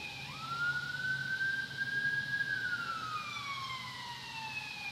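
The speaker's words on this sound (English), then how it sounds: "I got an ambulance driving past." A siren wails steadily, rising then slowly falling in pitch as the vehicle passes, loud and continuous over low traffic rumble.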